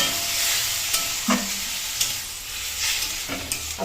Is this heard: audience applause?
no